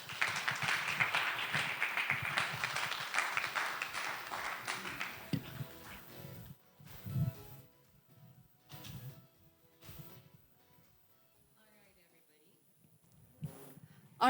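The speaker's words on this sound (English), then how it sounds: "Round of applause for Sir Jed, everyone." An audience at a sustainability forum bursts into sustained clapping that fills the room for several seconds, then thins into scattered claps as a speaker's voice takes over.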